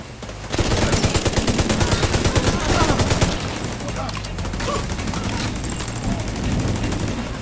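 Automated turret firing in The Division 2, a dense rapid burst of gunshots opening loud after a brief lead-in, then sustained mixed gunfire and combat noise continuing at a slightly lower level throughout.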